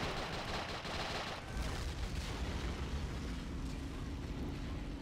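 Faint, distant machine gun fire in a World at War video game: steady, rattling bursts under a dull battlefield rumble.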